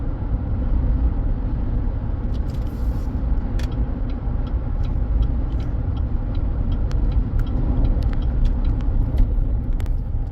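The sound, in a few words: 2015 Chevrolet Silverado truck shaking, suspected torque converter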